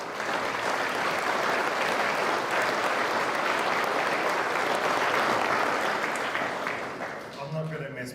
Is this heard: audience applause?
yes